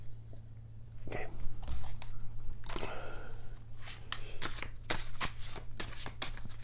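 Tarot cards being shuffled by hand in several quick riffling bursts, close up and crisp, with short pauses between bursts and soft handling noises in between.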